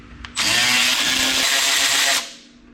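Power drill backing out cover bolts on a Toro zero-turn mower, a single close, loud whirring burst of about two seconds that then winds down.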